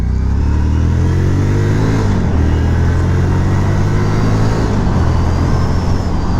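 A 2018 Harley-Davidson Street 500, a 500cc motorcycle, pulling hard at full throttle, its engine a loud, close, continuous roar with wind rush as revs climb steadily.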